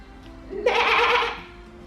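A sheep lets out one clear, wavering bleat lasting under a second, close by against a quiet background.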